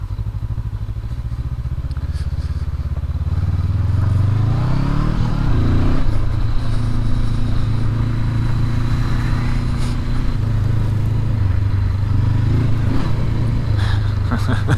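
A stock 2019 Honda CB500X ridden off-road on a dead-end road in Oregon, its engine droning loudly and close with rising revs, rattling over bumps, and a voice occasionally talking over it.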